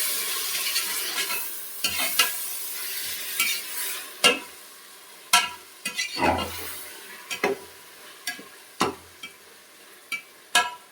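A spoon stirs biryani ingredients in a pot over gentle sizzling, with irregular scrapes and knocks against the metal that rise and fall across the stretch, close and clear without speech.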